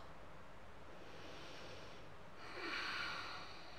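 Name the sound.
audible yoga exhalation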